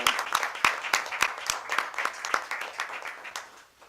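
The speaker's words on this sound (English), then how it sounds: "Give you a round of applause, all right?" A small group at a board of trustees meeting gives a short, sparse round of applause, individual claps audible and fading out within a few seconds.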